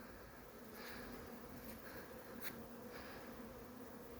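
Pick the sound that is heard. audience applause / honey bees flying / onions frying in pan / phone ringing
honey bees flying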